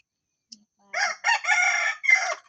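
Rooster crowing close and loud, one long drawn-out cock-a-doodle-doo broken into several bursts after a short quiet start with a faint click, no talk over it.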